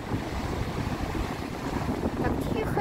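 Pacific sea wave washing up over sand, a close, steady rushing wash mixed with wind buffeting the microphone and a voice speaking faintly underneath.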